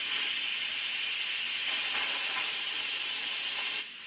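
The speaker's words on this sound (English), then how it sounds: "look at all that steam" Loud, continuous steam hiss rushing from the pressure release valve of a basic Instant Pot, holding steady for about four seconds before easing slightly at the end.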